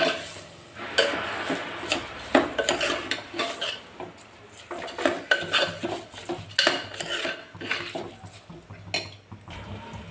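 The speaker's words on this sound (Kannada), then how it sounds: "ಈ ಅಕ್ಕಿನ ಸ್ವಲ್ಪ ಎಣ್ಣೆಲೆ ಫ್ರೈ ಮಾಡ್ಕೊಳ್ಳೋಣ" Soaked rice stirred and fried in oil in a metal pot for kuska rice, with irregular close scraping and clanking of a spoon against the pot over a soft sizzle.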